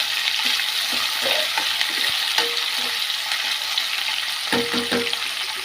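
Okra fry ingredients are stirred in a hot pan, a continuous close sizzle broken by uneven scraping and tapping strokes of a spoon against the pan, with no voices.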